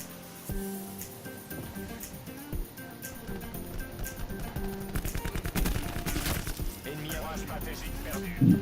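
Gunfire from a KN-57 rifle in a video game, bursts of sharp cracks and rapid shots running through the game's busy mix under a player's talk, louder near the end.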